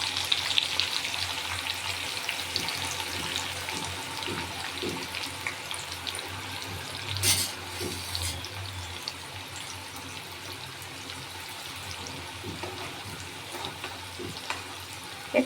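Sliced onions frying in hot oil in a wok for birista, a dense, steady sizzle that runs the whole time, close up, with a brief louder stir or splash partway through.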